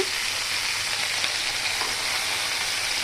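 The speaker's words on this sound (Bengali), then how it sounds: "আমি ভেন্ডিগুলিকে সুন্দর করে ভেজে নেব" Okra fries in a pan, giving a continuous, even sizzle and hiss with no voices over it.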